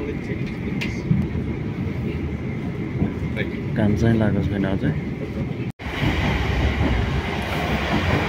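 A moving train rumbles steadily from inside a carriage, with a continuous low roar and faint rail clatter while a person speaks briefly over the noise.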